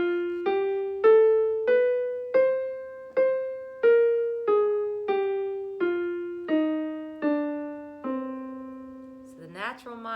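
A single melodic instrument plays a descending melodic minor scale, about a dozen evenly spaced notes stepping down in pitch, clear and alone.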